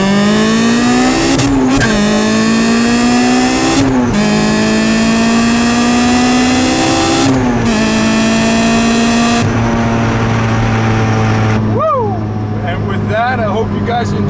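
A supercharged 2008 Honda S2000 CR accelerates hard through several gear changes, the loud, close engine note climbing then dropping at each shift before settling and fading into a softer idle with faint chirps near the end.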